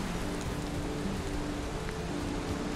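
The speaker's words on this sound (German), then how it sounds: "Bisschen schade, dass es hier so regnet." Rain in the video game Valheim falls as a steady, dense patter and hiss, constant and even throughout, with no voices over it.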